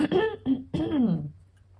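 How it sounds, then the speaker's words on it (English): A single throaty cough followed by a short voiced clearing, close and fairly quiet, with no other sounds around it. "I'm just gonna cough."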